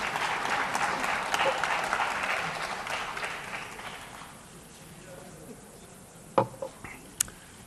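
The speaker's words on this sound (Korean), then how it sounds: "박수 치셔도 됩니다." Applause fills a parliamentary chamber during a party leader's address, a broad crowd of clapping that fades out after about four seconds, leaving a quiet room with a few sharp knocks near the end.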